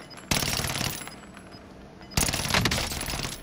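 Two bursts of rapid automatic gunfire from Call of Duty Warzone, each a dense, loud rattle of shots lasting over half a second, separated by a quieter stretch of game ambience.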